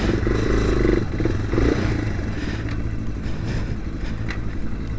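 A motorcycle rides over a rut, its engine rumbling loudly up close with clattering jolts, and the tone eases after the first second or so.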